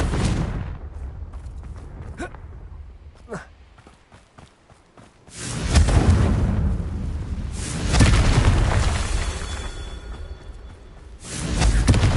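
Heavy booming fire blasts of the Confringo spell in Hogwarts Legacy, several loud surges separated by quieter stretches with footsteps, while a voice calls out spell names.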